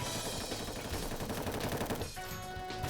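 Rapid gunfire from a first-person shooter video game, a play-to-earn title on the Solana blockchain, plays as dense, continuous automatic bursts at steady loudness for about three seconds with no talk.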